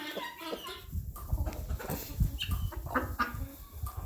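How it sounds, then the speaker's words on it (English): A rooster clucks and murmurs in a farmyard pen, low, repeated calls close by with faint background bird and animal noise, no voices. "There's our new rooster."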